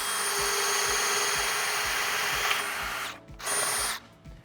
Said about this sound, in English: drill out the marked holes with a 7/16 drill bit